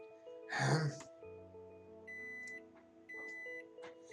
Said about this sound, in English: Suddenly the sound of an alarm resounded throughout the room.